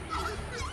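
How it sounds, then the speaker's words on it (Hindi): A horned screamer lets out a short, harsh braying call like a donkey, one brief loud burst lasting under a second. "Horn screamer. जब ये पक्षी अपनी आवाज निकालता है तो ऐसा लगता है जैसे कोई गधा चिल्ला रहा"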